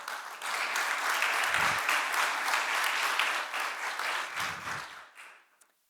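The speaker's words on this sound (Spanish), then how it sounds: "así que un fuerte aplauso para ellas" A crowd claps in sustained applause that holds steady for several seconds, then fades out and stops.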